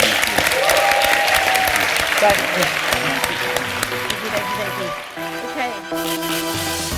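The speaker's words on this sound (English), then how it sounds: "So round of applause" Audience applause fills the room in a dense, steady wash of clapping that thins toward the end, with a few spoken words over it at the close.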